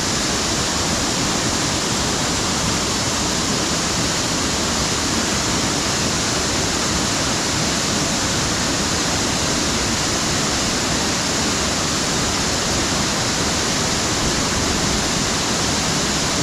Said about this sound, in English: point it down through the waterfall coming down